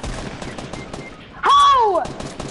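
Gunfire in a squad-based shooter video game, a brief burst of shots followed by a loud sweeping whine, with chatter and game noise underneath.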